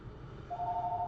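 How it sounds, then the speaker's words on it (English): A telephone ringing indoors, a steady electronic tone that starts partway through and holds over low room noise, fairly faint and alone. "I'm sorry about the phone ringing."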